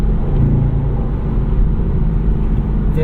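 Engine of a Chevy SS with its secondary catalytic converters deleted, cruising at 55 to 60 mph on a two-lane highway in sport mode, a steady loud low rumble that holds through gear changes.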